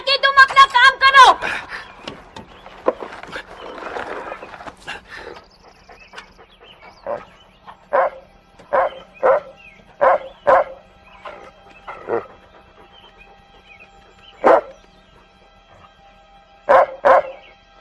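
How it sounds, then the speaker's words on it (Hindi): A dog barks in sharp, separate bursts, spaced a second or two apart and repeated about a dozen times, following a stretch of talking voices at the start. "तू क्यों भौंक रहा है?"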